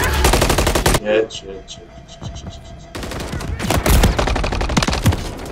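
Rapid bursts of automatic gunfire from Call of Duty MW3 crackle loudly in close, dense volleys, break off into a short lull with scattered shots, then resume in heavy sprays while a player swears over it.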